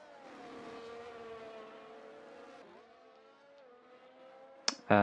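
Race cars in a racing game on the Bahrain track, a single engine droning steadily with a pitch dip partway through, then a sharp loud burst right at the end.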